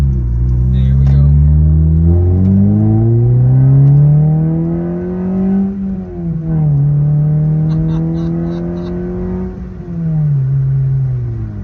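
A ninth-generation Honda Civic Si engine revs up loud and close through several gears, with rising pitch between shifts and a brief dip at each change.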